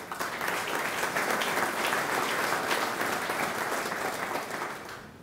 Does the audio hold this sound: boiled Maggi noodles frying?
no